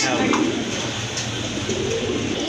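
Pigeons coo at a bird market, a continuous low murmuring from several birds close by, with people talking over them.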